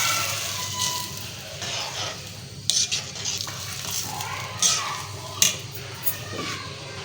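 Rice and vegetables for veg tahari are stirred in a pot, producing a soft continuous scraping and sizzling with several sharper clinks of the spoon against the metal.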